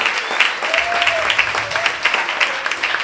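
A crowd applauds steadily at a Cuban exile event in Miami, a dense patter of many hands clapping close by, with a faint voice underneath.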